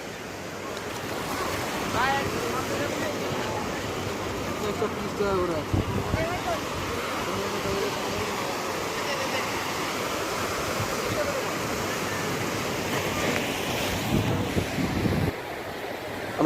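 Sea waves wash onto the beach at high tide in Digha, a steady broadband roar of surf mixed with wind, with faint voices of tourists in the background.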